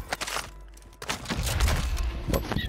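Shotgun fire in Call of Duty: Modern Warfare II comes as a quick run of sharp, booming blasts with cracking impacts, close and fairly loud.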